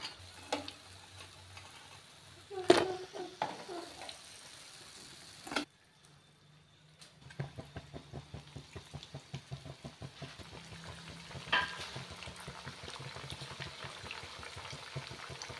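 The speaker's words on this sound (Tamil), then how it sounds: "இந்த எண்ணெய் கொதிக்கிற ஓசை கொஞ்சம் அடங்கணும் ஃப்ரெண்ட்ஸ்." Crispy thattai snacks made with peanut, garlic and ginger frying in boiling oil, a quiet bubbling sizzle with scattered ticks and clinks of a ladle or strainer, pausing briefly before the crackle resumes.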